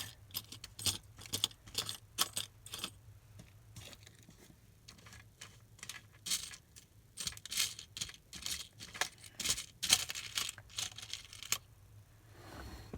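A small ring of keys jangles and clinks close by in rapid irregular bursts, a crafter handling them while assembling a mini junk journal, with faint rustling of paper between the jingles.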